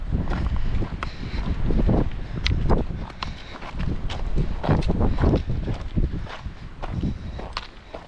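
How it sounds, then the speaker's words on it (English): Strong gusting wind on a hiking trail in the Guadalupe Mountains, loud buffeting roar against the microphone with uneven surges and faint footsteps underneath. "the wind is blasting that way"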